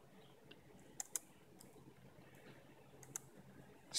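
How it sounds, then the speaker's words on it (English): Keys clatter softly on a Chromebook keyboard as Linux commands are typed, scattered faint taps with a few sharper clicks over a quiet background. "All you have to do is type in root and press enter to log in."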